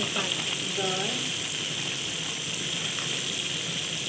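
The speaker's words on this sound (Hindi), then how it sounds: "अच्छे से गरम हो गया, और अब हम डालेंगे इसमें दाल" Lentils (dal) tipped into a hot pan in a home kitchen give a steady, loud sizzle that holds for the whole stretch, with a voice briefly heard near the start.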